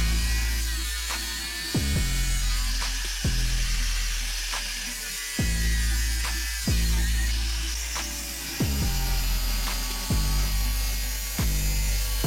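Cutting apart the rusty body of a Toyota Hiace 4x4 van, a steady loud rasping cut with metallic ringing, broken by short sharp strokes about every second and a half, with no talk.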